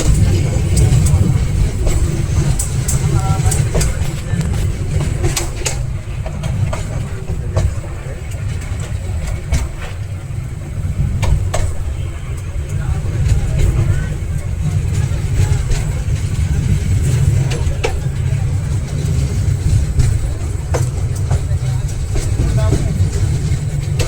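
A passenger train runs past close by in Bangladesh, giving a loud, steady low rumble with rattling clatter that holds for the whole stretch, with faint voices underneath.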